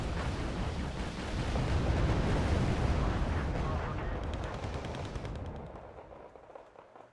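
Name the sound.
gunfire and artillery in the video game Wargame: Red Dragon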